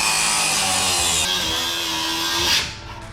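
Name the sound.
cut-off wheel cutting a Willys steering column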